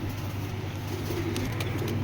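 A pair of big red checker racer pigeons cooing, soft repeated low coos close by over a faint steady background hum, with a few light higher chirps near the end.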